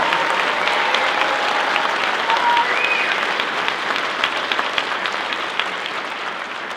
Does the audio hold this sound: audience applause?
yes